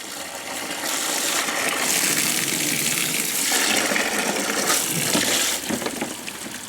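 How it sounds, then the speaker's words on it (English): Water pours steadily into a cooler for a waterproof submersion test of survival cache containers, a loud continuous rushing and splashing that runs the whole time with no talk over it. "fill up this cooler with water"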